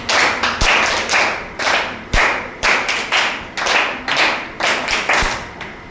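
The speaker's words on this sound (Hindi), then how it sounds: "ताली स्टार्ट" Children in a classroom clap their hands in unison, a steady rhythmic pattern of loud group claps in short repeated phrases with brief pauses between them.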